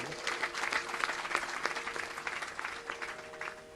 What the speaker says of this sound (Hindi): एक बार जोरदार ताली बजाओ इनका